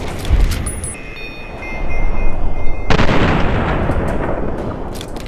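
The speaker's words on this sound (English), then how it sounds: "I took him out with 3 shots from the hunting rifle" Hunting rifle shots ring out in Fallout New Vegas combat, loud booming reports with long rumbling tails over a dense, noisy backdrop.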